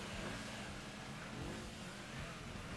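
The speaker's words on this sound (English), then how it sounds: "this does actually sound a bit like a Boxer, a Subaru Boxer engine" A Gran Turismo 2 car engine with a Subaru Boxer-like character drones steadily, a dense continuous buzzing hum held at an even level throughout with no talk over it.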